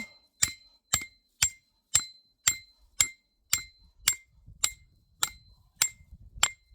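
Sharp metallic hammer strikes ring out one after another in a steady rhythm, about two per second, driving an auger into hard frozen ground outdoors, each hit close and clear with a bright clinking ring.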